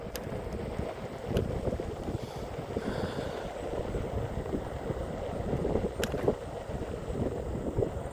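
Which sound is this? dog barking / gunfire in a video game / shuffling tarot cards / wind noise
wind noise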